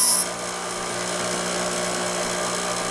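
A high-pitched electric drill whines steadily, spinning continuously at an even pitch with a brief louder burst at the very start.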